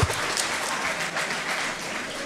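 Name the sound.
audience applause for the winning team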